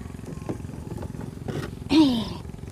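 A motor engine runs steadily on a small canal nearby in the Ca Mau countryside, a continuous low drone heard throughout, with a brief louder swell near the end.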